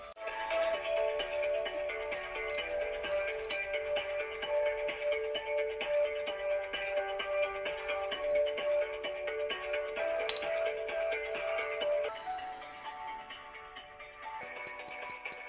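A telephone call to the DVLA rings out on hold, giving a steady, sustained electronic tone pattern that continues without pause for the whole stretch and shifts slightly near the end, with no voices.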